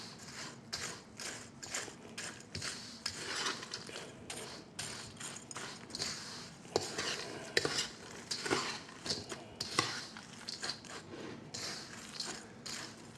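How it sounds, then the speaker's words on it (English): A spoon clinks and scrapes rapidly against a cup as a potato-salad-like mixture with hard-boiled egg is stirred, producing quiet, irregular rattling taps close by. "Stir in there good"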